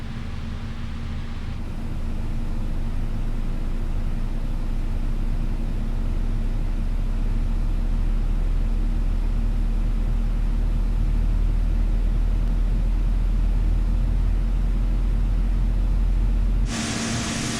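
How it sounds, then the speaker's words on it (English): An Emirates Boeing 777 engine spools up in a flight simulator, a steady low rumble with a constant hum holding for about fifteen seconds before cutting off abruptly. "Let's get engine one slammed on."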